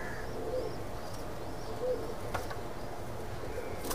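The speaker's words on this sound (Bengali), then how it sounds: "এই কবুতরটা আমি ছেড়ে দেখাচ্ছি ভিউয়ার্স" An Oman bloodline Teddy pigeon coos softly in a few low, rounded calls over a steady background hiss.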